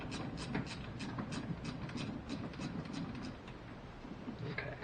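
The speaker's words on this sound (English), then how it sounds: "So I'm going to loosen the hose clamp that's on the throttle body itself." A hose clamp is loosened on the intake pipe at the throttle body of a 1993 Nissan Skyline with an RB20DET engine: a rapid series of ratcheting clicks from a hand tool, close and moderately quiet, in an otherwise quiet garage.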